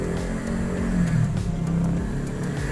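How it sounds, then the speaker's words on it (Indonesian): A Honda Vario 125 scooter's CVT gives a steady rough grinding drone as the rear wheel is turned by hand, near and continuous with no talk. "Saat roda diputar ini ada bunyi kemerosok"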